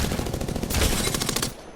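Rapid automatic rifle fire in Apex Legends rattles out in a steady, close burst lasting under two seconds, with no voices over it.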